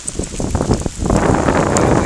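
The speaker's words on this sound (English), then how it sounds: "it's just really nice to hear the wind, isn't it?" Wind gusting outdoors at Lamlash on the Isle of Arran in rainy weather, a loud rushing roar rising into steady buffeting noise over the microphone.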